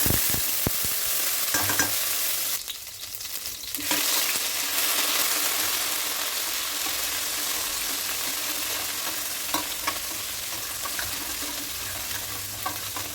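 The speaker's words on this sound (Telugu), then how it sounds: "ఆయిల్లో వేసేసి కొంచెం ఇలా ఫ్రై చేసుకోవాలి" Cumin seeds frying in hot oil, a continuous close sizzle with stirring scrapes and small clinks, a brief quieter dip near the start, no talking.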